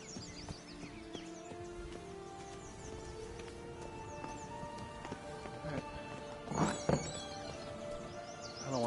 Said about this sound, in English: There's the horses again.